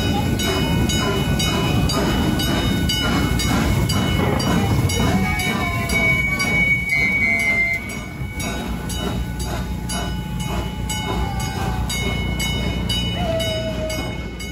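A steam locomotive train rumbles past with continuous rolling and clattering wheels, loud and close, with squealing metal tones rising now and then.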